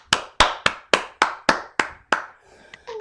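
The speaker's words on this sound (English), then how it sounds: "your clapping can be heard if you clap longest or if you clap loudest" Claps ring out at a poetry slam, about eight sharp, evenly spaced strikes with short echoing tails, close and distinct, followed by a faint tonal sound.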